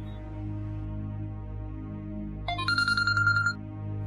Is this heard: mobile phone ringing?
yes